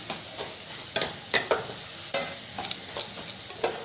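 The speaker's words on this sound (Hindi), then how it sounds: "थोड़ा ऐसे प्रेस करते हुए चलाएंगे कि टमाटर जो थोड़ा बहुत रह गया" A spoon stirs and presses a tomato mixture in a frying pan while making chokha, giving irregular scraping knocks over a continuous soft sizzle, close and alone.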